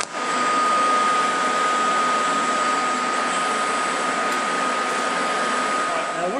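Everlast PowerArc 300 DC stick welder converted for TIG, arc burning steadily with a continuous broadband hiss and a faint steady whine, loud and close, held the whole time without pause and with no talking over it.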